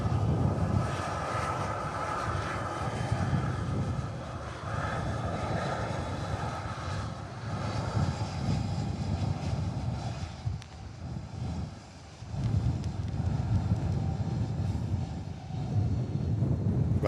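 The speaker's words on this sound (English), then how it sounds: "Ryanair just arrived in from Berlin" A Ryanair airliner arriving and landing at Manchester Airport makes a sustained, broad jet roar with some wind buffeting, loud and continuous at a distance, with a brief dip before the rumble returns.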